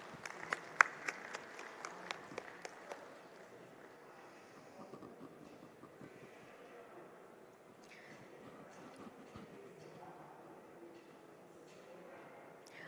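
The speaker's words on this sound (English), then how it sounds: "I would request the audience to give the panelists a round of applause again" An audience applauds panelists at a maritime heritage conclave in India, a burst of clapping that starts bright and scattered, then thins into a soft, distant patter under room murmur.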